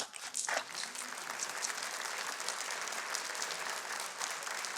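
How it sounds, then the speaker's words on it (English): A studio audience at a cooking show claps in steady, dense applause that holds at an even level for several seconds, with no talk over it. "I think they're applauding you, not me"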